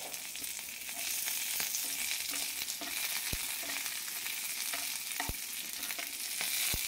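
Garlic frying in oil in a pan as green chillies go in, a continuous close, bright sizzle with occasional sharp crackles and pops throughout.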